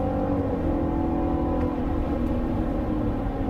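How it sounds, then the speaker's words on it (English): A steady, low engine drone from inside a 2024 Cadillac Escalade, a constant idling rumble with no voices over it. "Listen to that engine."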